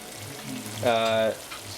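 Chicken karahi sizzles in a pan while chopped cilantro is stirred in, a soft steady frying hiss with a brief tonal scrape or clink in the middle.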